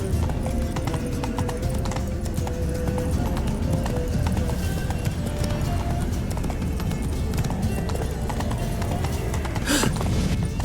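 Roach, Geralt's horse in The Witcher 3: Blood and Wine, gallops with steady, rhythmic clip-clopping hooves close by, a whinny near the end, voices talking over the hoofbeats.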